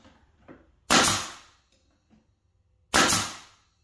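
A pneumatic nail gun fires two sharp, loud shots about two seconds apart, driving nails into a wooden planter box, with faint knocks of handling between them.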